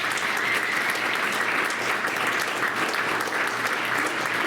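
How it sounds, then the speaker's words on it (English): Sustained applause from a town hall audience after a gubernatorial candidate speaks, a dense, steady wash of clapping at an even level throughout, with no voices standing out. "Once again, maybe one more round of applause."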